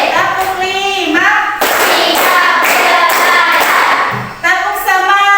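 A school class claps in rhythm while chanting a count together, with loud, close group claps blending with the voices.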